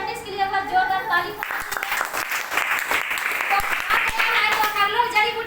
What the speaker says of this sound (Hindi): तो ऐसे साइंटिस्ट के लिए एक बार जोरदार ताली।